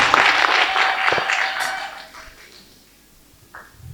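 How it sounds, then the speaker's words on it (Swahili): A crowd at a gathering breaks into loud applause that fades away over a few seconds, leaving near quiet, then a brief faint sound near the end. "Ongeza makofi na vigelegele."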